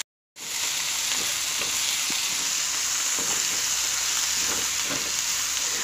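Boneless sausage pieces and vegetables, including capsicum, sauté in a pan. After a brief silence, a steady close sizzle starts and carries on with occasional soft stirring taps.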